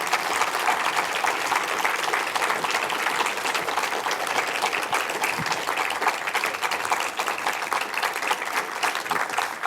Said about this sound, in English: Ladies and gentlemen, please a big round of applause for Nandini